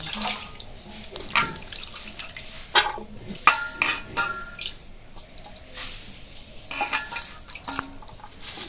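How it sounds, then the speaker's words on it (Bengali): Cut garlic being washed by hand in a bowl of water, with splashing, swishing and light clinks of a metal vessel in irregular bursts, close by. "রসুন কাটা হয়ে গেছে, এবার রসুনগুলোকে ধুয়ে নেব।"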